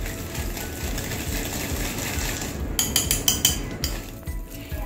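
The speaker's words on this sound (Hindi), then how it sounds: "अब इन दोनों को व्हिस्क की मदद से हमें 5 मिनट तक बीटना है।" A whisk beats ghee with powdered sugar in a bowl. Soft mixing under a low hum gives way to a burst of quick metallic clinks and scrapes against the bowl.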